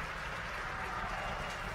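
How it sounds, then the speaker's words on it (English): A distant crowd at a rocket launch at Cape Canaveral cheers continuously, a broad steady roar with no single voice standing out. "And you can hear all the cheering in the background."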